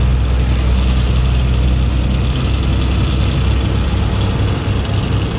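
A vehicle engine labouring steadily on a steep hill road in the Telangana hills near a reserve forest, a loud continuous low drone and rattle close by, with no talk.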